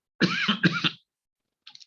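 Two quick harsh coughs from a person recovering from an illness, close to the microphone during a math lecture, followed by silence and a faint bit of sound at the end.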